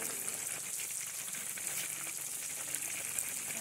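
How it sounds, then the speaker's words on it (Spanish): Small lisa fish frying in a pan for breakfast, a steady dense sizzle and crackle of hot oil, continuous and close with no pauses. "aquí ya se están friendo los otros pescaditos"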